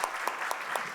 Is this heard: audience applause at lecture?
yes